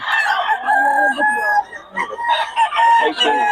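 A Boston Sweater bloodline gamecock rooster crows loudly and close by, with repeated harmonic calls running through the clip and brief breaks between them.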